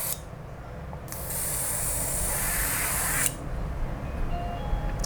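An airbrush sprays paint in a steady hissing burst of about two seconds during a spray-pattern check while painting a Tamiya Comical Grasshopper model kit, with a quieter hiss before and after.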